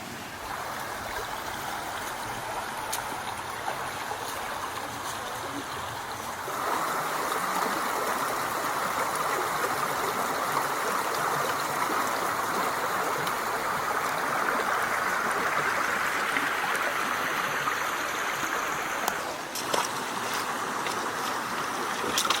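Garden Creek flowing along a hiking trail with many creek crossings, a steady broadband rush of water nearby that grows louder partway through and stays constant, with no voices.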